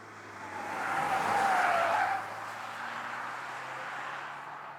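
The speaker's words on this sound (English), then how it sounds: "you can hear those wheels just screeching as soon as you go around that with 80 kilometers" Tires of a Volvo XC60 Recharge Polestar Engineered squeal while the car takes a corner at about 80 km/h, a loud rising screech peaking over roughly two seconds, then easing into steady road and engine noise.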